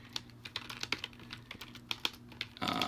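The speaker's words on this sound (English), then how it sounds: "I'm typing out loud here." Quiet, steady typing on a computer keyboard, with irregular key clicks close by and a busier clatter of keys near the end.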